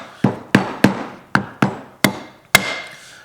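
Mallet taps on KitchenAid stand mixer parts during reassembly, seven sharp knocks in an uneven rhythm, close and fairly loud, with short ringing decays.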